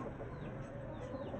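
Chickens, roosters and hens cluck softly and steadily, close by at low level, with no talk over them.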